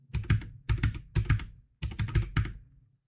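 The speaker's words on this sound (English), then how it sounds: "Let me press some keys on my keyboard." Computer keyboard keys pressed in quick clusters, crisp clicky typing bursts heard close up through a budget microphone, with short pauses between groups.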